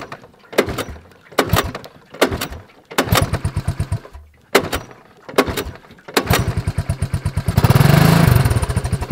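Cranking attempts on a classic Honda trike with a little gas in the tank, sitting on an angle: repeated short bursts of starter churning, then the small engine catches and runs with a steady close putter that revs up loudly near the end.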